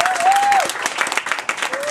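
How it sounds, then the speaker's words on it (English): Audience members at a public speaking contest clap for the contestants in a brief, brisk burst of applause, close and fairly loud, with a short whoop near the start. "you deserve a round of applause"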